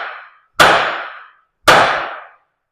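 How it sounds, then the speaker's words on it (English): Two loud, ringing metallic strikes of a large copper hammer on the sliding prop shaft of a Scania P500 truck, each hit sharp and close with a decaying clang, evenly spaced about a second apart. "Even with a big, decent copper hammer."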